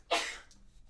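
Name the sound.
sneeze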